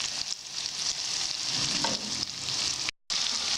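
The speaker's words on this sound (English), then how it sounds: "So I add in my tomato paste, stir that in there for a little bit, and then let it quote unquote fry for some time." Tomato paste stirred into onions and frying for a goat meat stew, a steady close sizzle with soft scraping stirs throughout and a brief silent break near the end.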